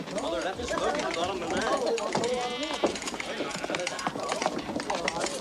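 Sheep bleat near shearing time amid a busy flock, several wavering calls overlapping close by along with hoof clatter and people talking.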